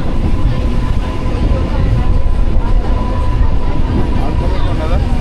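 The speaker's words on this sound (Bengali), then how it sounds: "হুইসেলও কিন্তু দিয়ে দিল, এবার ট্রেন আমাদের ছেড়ে দিল" Train at Deshpran station on the Tamluk to Digha line, a loud, continuous rumble and rattle of the train pulling away, with a thin whistle tone riding over the steady mechanical roar.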